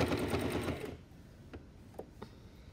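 A sewing machine stitches the seams of boys' pajamas in a fast, dense burst lasting about a second, then stops, leaving a few faint clicks and handling noises in a quiet room.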